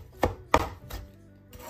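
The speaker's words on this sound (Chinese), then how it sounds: "辣椒切好之后，我们再给它剁上几刀" A knife chops finely sliced green chilli rings on a board, giving three sharp, close, evenly spaced thuds followed by a fainter fourth strike, with no talk.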